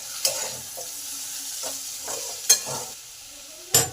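Ginger paste is stirred into frying potatoes and onions, a low sizzle broken by several spatula scrapes and three sharp clanks against the pan.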